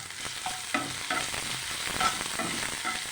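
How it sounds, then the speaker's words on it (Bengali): Salted onions sizzle in a pan while a spatula scrapes and stirs them in irregular strokes, the frying hiss steady and close with no talking. "এর মধ্যে আমি অল্প করে একটু নুন দিয়েছি, তাহলে পেঁয়াজটা তাড়াতাড়ি করে ভাজা হয়ে যাবে"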